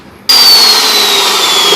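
A cut-off machine starts abruptly after a brief quiet moment and runs loud and close, a harsh high whine with a steady tone as it cuts through metal at 90 degrees.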